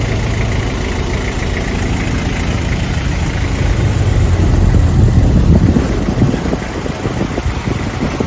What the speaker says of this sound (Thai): เครื่องยนต์ดีเซล